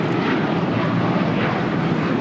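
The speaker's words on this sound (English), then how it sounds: "615 taking off to Cancun on a 737-800" Brief, loud, steady roar of a Delta Boeing 737-800 jet taking off from LAX, a dense engine rush with no breaks.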